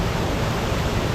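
Waterfalls at Elsie Falls on Little Cow Creek pour in a steady, loud broadband rush, continuous and close, with no voices over the roar.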